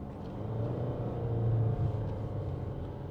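The engine of a 2013 Toyota RAV4 2.2 diesel automatic, shifted down manually, swells into a low, rumbling rev from inside the cabin, then settles.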